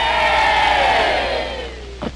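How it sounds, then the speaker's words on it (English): A crowd of villagers raises a loud, sustained cheer for the queen, a broad roar that swells and then gradually fades over about two seconds, heard alone without talk. "I want to hear the cheer."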